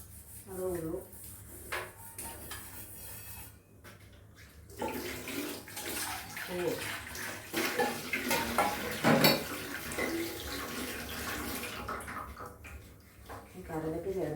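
Dishes are washed by hand under running tap water, with splashing, rubbing and occasional clinks of pots and utensils, close and intermittent, and a voice is heard now and then.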